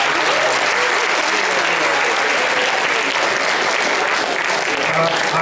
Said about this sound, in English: give a big round of applause to all the JSMs